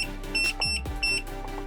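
An AiXun T420D dual-channel soldering station emits short electronic beeps, three or four quick high tones in a close, clear pattern over a low hum.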